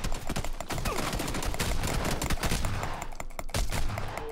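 Shotgun blasts and other gunfire in the PUBG battle-royale game, with loud, dense, rapid bursts of shots layered over each other throughout.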